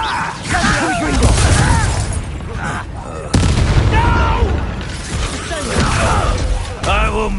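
Confringo explosion spells go off in Hogwarts Legacy as several booming, popping blasts punctuate the fight, mixed with combat noise and speech throughout.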